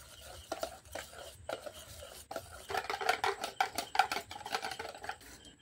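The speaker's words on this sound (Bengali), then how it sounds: "আমি বেসনটা ফেটিয়ে নিচ্ছি" Gram flour (besan) batter is whisked by hand in a bowl for onion chops. The beating is close and quiet at first, then quickens into a faster run of soft slaps and scrapes against the bowl.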